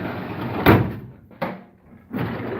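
A tool drawer in a shipping container workshop slides open with a bump, then rolls again in two more short runs, close and fairly loud, with no talking.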